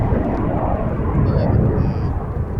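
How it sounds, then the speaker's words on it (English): Frecce Tricolori jet formation passing over the Royal International Air Tattoo, a loud continuous low roar that stays steady throughout, with the airshow commentary's voice faintly under it. "main formation coming in from the front for the newest manoeuvre to be added to the Frecce Tricolori display"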